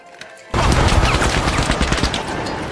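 Gunfire in the video game The Finals, a sudden loud burst of rapid shots that starts after a brief quiet moment and continues densely to the end.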